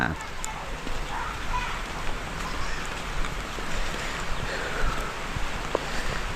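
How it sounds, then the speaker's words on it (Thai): Rain falls outdoors in the countryside on the way to the rice fields, a soft continuous hiss with faint patter and gusty rumble, fairly quiet throughout. "มื้อนี้ฝนตกนะ"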